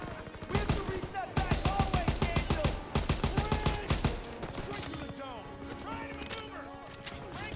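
Rapid bursts of automatic gunfire from the video game Call of Duty WW2 crackle loud and close in several rhythmic volleys, then give way to sparser, softer shots over a ringing game soundscape.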